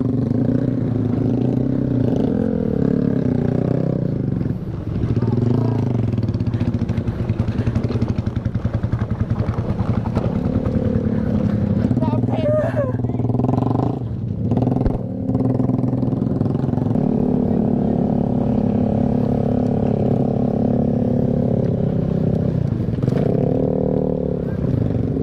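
A motorcycle engine hums steadily while riding on the way to the Sukamantri campground near Bogor, a continuous close drone with small shifts in pitch and a voice talking over it.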